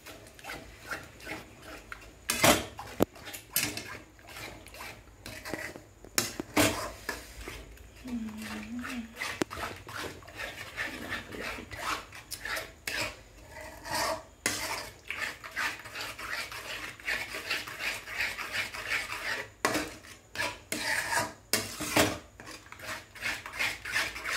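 A spoon scrapes and knocks against a pan as surali vadi batter is stirred continuously, giving irregular faint clinks and rubbing sounds with someone talking over it.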